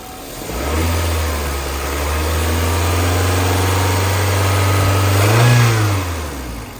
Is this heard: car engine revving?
yes